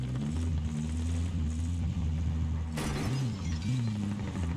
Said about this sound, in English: I just heard glass breaking.